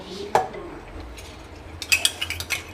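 Cooked rice being added into a chicken biryani pot, a sharp metal spoon clink on the pot followed by soft scraping and a cluster of light clinks, close by with no talk.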